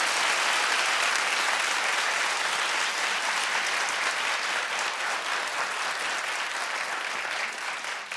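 A talk show studio audience claps loudly and continuously, a thick, even sheet of applause that holds steady for several seconds and tapers slightly at the end.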